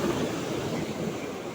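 Moderately large sea waves roll and wash at sea on a fishing trip for baby giant trevally, with a steady soft rush of surf and light wind noise throughout and no talking.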